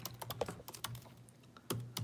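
Fingers typing on a computer keyboard, giving a quick, irregular run of sharp clicks near the microphone, with a brief pause before a few final keystrokes and no talking.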